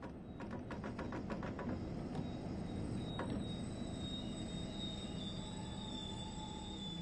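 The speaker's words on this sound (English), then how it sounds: "Bring the train to a stop now by applying the train brake." A train brakes to a stop in a train simulator game. Steady low rumbling and rolling rail noise carry a high, thin squeal of wheels on rails, with a few clanks early on. No voices are heard.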